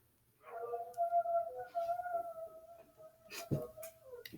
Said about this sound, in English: And that's Maylee howling.